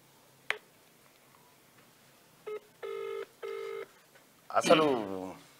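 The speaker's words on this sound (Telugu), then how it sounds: "ఒకసారి ఫోన్ కలుపు" Phone keypad tones sound as a call is placed from a Telugu news set: a click, then a brief beep followed by two longer steady tone bursts, and finally a short stretch of close speech.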